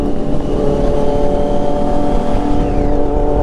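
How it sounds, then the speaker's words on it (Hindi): Many four-cylinder sport motorcycles, including a Kawasaki Z800, rev and drone together at high pitch, a dense, continuous roar close by. "ये देखो आवाज़ सुनो बहुत सारी बाइक्स है"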